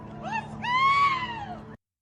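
Screams from people during a knife attack at a playground, heard in a replayed video: a rising, wavering cry over about 1.7 seconds above a low background hum. It is fairly loud and mid-distance, and it stops abruptly.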